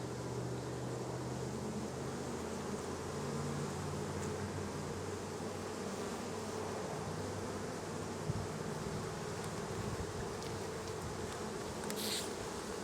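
Honey bees humming from an open backyard hive, a dense, steady close buzz filling the whole stretch, with a few louder passes of individual bees near the end.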